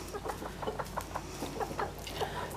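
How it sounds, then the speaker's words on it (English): Roosters clucking and crowing inside a barn coop, a rapid series of close, loud clucks and calls with faint farm background. "It's only supposed to be 2 roosters out."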